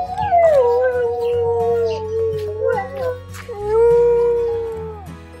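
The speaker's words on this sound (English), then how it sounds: "We even heard dingoes howling, which was pretty cool." Dingoes howling in the Perth area of Western Australia, a long rising and falling wail with overlapping voices, fairly close and loud, holding steady across the whole stretch with brief dips.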